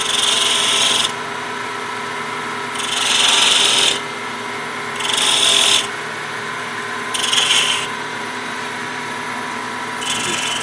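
A point tool scraping a turned wooden pill box on a lathe: five rasping passes, each a second or so long, loud and close over the steady hum of the spinning lathe.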